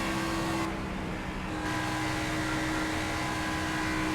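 Race car engine from NASCAR 25, a steady loud drone running without a break, held close with a constant tone, with no voices over it.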